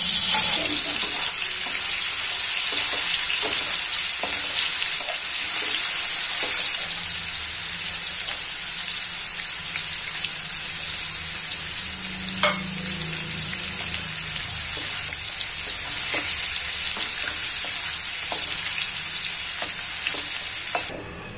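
Paneer that was kept in the fridge sautés in a pan, giving a steady, loud sizzle with occasional soft stirring scrapes and no talk.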